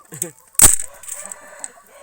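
A prize fighting rooster that has won two bouts, kept in a yard fed with corn in the morning, gives a loud, short call that bursts out abruptly, followed by faint softer clucks and background noise.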